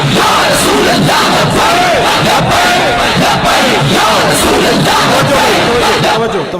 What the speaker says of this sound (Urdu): خادم حسین نظوی حضور دے نعرے لاؤ چلے ہو